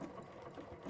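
A sewing machine runs steadily as it stitches through fabric, a continuous close whirring hum with a faint regular mechanical pulse and no talking.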